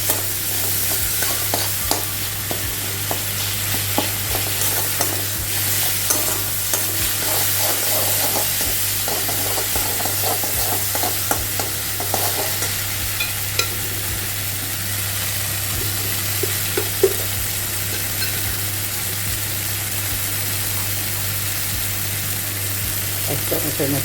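Tomatoes with turmeric and spices fry in a pan for a Bengali stuffed pointed gourd dish, making a loud, continuous sizzle broken by frequent stirring scrapes and clinks over a low steady hum.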